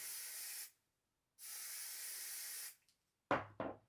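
Two bursts of wig wax spray hiss close by, a short one then a longer one, followed by a couple of soft handling clicks.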